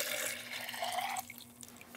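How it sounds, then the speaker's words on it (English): Water is poured out of a tray of seed-starting cubes back into a container, a soft close trickle and splash that thins and stops after about a second. "So now that the cubes has soaked up enough water, we are going to pour this out."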